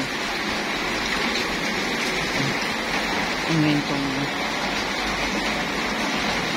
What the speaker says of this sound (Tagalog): So ayan, lakas na ng ulan.